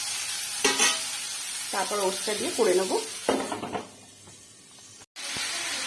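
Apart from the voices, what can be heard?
vegetables frying in a pan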